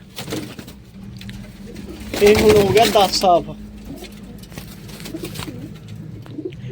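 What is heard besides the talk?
pigeons cooing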